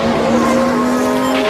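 Liam Lawson's Formula 1 car at the 2024 Abu Dhabi Grand Prix, limping back toward the pits after its wheels may have come loose, makes a steady sustained engine drone, fairly close and loud, with no talk over it.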